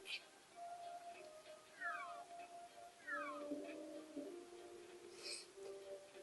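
Meowth's cat-like cry from the Nintendo 64 game Pokemon Snap, several short rising and falling meows spread out over game background sound, fairly quiet and with no voice over it.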